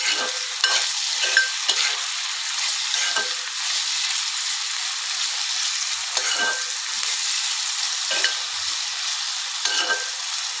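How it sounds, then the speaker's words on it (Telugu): Chopped capsicum frying in oil over a medium flame gives a loud, continuous sizzle, with periodic scraping stirs breaking through the hiss. "మీడియం ఫ్లేమ్లో పెట్టి ఆయిల్లో మంచిగా ఫ్రై చేయాలి"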